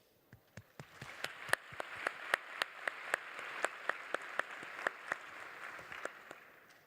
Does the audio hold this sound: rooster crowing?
no